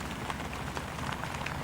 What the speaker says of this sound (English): That's the rain pouring down.